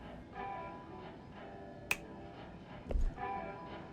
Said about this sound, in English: Really? You're gonna snap your fingers?